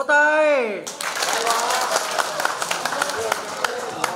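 Wedding guests clap at a Vietnamese wedding ceremony, a dense burst of applause that follows a sung voice and carries on steadily, fairly close, with scattered louder claps.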